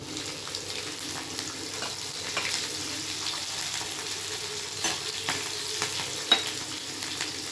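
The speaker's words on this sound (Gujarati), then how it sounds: "લસણ થોડું તતળી જાય લાલ થઈ જાય એટલે એમાં એક લીલું મરચું કાપીને નાખીશું" Garlic and green chili fry in a pan for a Kathiawadi-style tempering, making a steady close sizzle with faint crackles and a few small pops, and no voices.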